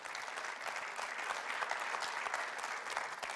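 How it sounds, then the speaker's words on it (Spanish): A church congregation applauds during a Sunday service, a steady, dense wash of many hands clapping at moderate distance with no voices over it. "Denle un aplauso a Dios por eso."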